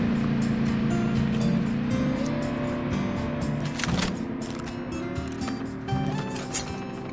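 An ATV in the mobile battle royale game COD Mobile drives steadily with a continuous engine drone and hum, holding level for the whole stretch with no talking.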